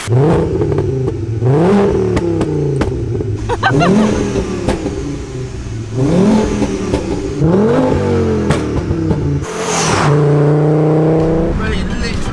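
A VW Golf GTI Mk2 swapped to a 2.3-litre 20-valve VR5 five-cylinder engine revs hard and repeatedly, loud and close, each rising pull dropping back before the next, with a voice briefly over it.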